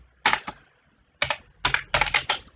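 Typing on a computer keyboard, close and clear, with short bursts of rapid key clicks separated by brief pauses and nothing else heard.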